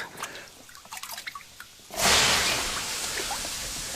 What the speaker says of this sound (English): Will you throw some more water on the stones?